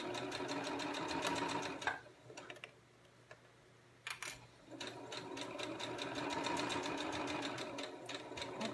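A home sewing machine runs in fast rattling bursts while stitching a candy corn wristlet, pausing for a couple of seconds when the reverse button is pressed, then resuming with a quick clatter and a steady rapid stitching run.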